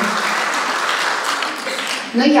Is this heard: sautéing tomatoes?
no